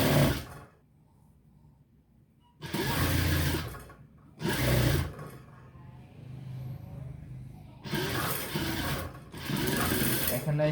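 Close, loud bursts from a sewing machine double-stitching a kameez, three or four separate runs of rapid whirring stitching with pauses between, while someone talks softly in the gaps.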